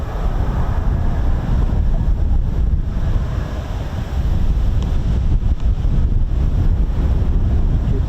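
Strong wind buffeting the microphone at an airfield where F-35B jets are taxiing, a loud continuous low roar that stays heavy from start to finish, no talk.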